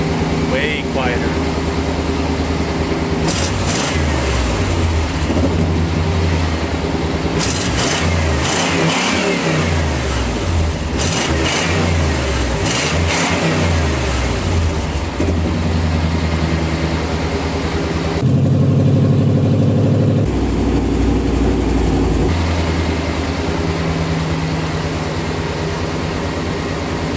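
A Chevrolet K2500 pickup fitted with a new muffler and tailpipe idles steadily, with several rising and falling revs of the engine heard up close over a sustained rumble.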